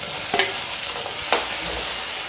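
Tomatoes fry in hot oil with browned onions, giving a steady close sizzle broken by two brief stirring scrapes.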